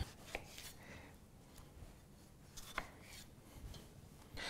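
A knife cuts three tomatoes on a board for homemade Branston pickle, quiet scattered chopping taps and soft rubbing at close range, with no voices.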